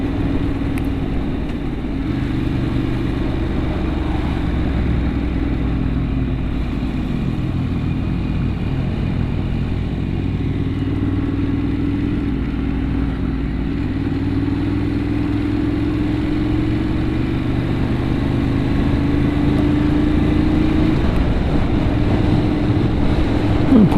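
Motorcycle engine drone while riding a BMW R1250RT on an outdoor group ride with a Benelli Cafe Racer and Ducati Monster R, a steady close hum with shifting pitch and wind rush throughout.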